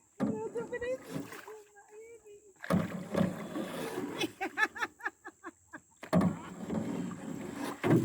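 Oars splashing and knocking as someone rows a small boat near a beach, with a run of rhythmic strokes between stretches of talk from adults and a child.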